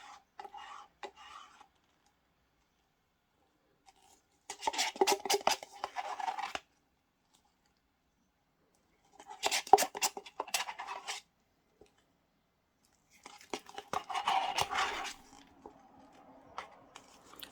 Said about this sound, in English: I love it when you scrape out a resin pot like this.